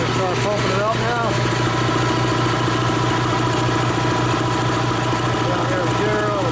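Dayton Speedaire 7-1/2 hp air compressor running steadily after start-up, a loud continuous motor drone with a rhythmic pumping pulse throughout, while faint voices are audible underneath.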